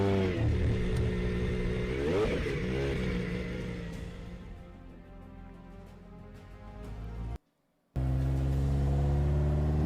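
A Gordon Murray T50 supercar drives laps of the Top Gear test track, its engine note sweeping up and down in a steady, loud, tonal roar with a brief cut-out near the end.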